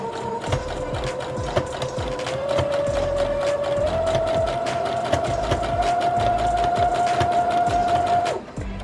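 A sewing machine stitching fabric being guided by hand: a steady, close, continuous mechanical whir with a rapid rhythmic ticking that rises slightly in pitch as it speeds up, then stops abruptly near the end.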